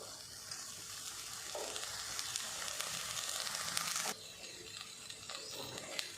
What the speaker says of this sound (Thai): ผัดให้เครื่องแกงกับกะทิเนี่ย เข้ากันนะคะ